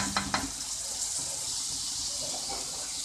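Onion paste frying in a pan, giving a steady, soft hiss and sizzle with a few light stirring clinks near the start, heard faintly and without talk.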